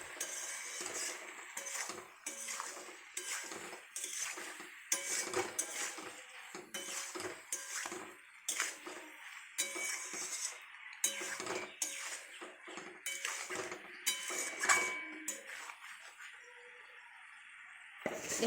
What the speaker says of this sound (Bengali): চিলি চিকেনটা দিয়ে এটা ভালো করে নাড়াচাড়া করে